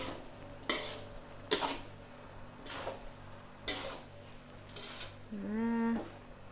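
A spoon stirring food in a pan after salt is added, making several separate scraping clanks against the metal over a faint background hum, followed by a brief whining tone near the end.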